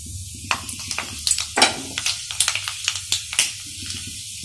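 Nigella and fenugreek seeds crackle and sizzle in hot oil in a kadhai, a close run of sharp pops and spits over a steady low frying hiss, with no talking.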